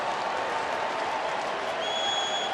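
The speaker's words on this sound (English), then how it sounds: "Great crowd tonight at Coors Field." Large baseball crowd of about 45,000 at Coors Field, a steady broad roar of applause and murmur at night, continuous and moderately loud with a faint whistle near the end.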